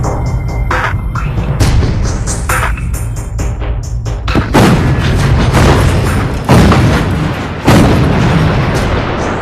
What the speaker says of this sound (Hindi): हमारी आर्टिलरी बोफोर्स गन से पीक 5179 पर बम्बार्डमेंट कर रही है